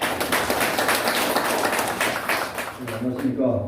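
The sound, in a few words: audience applause at a lecture event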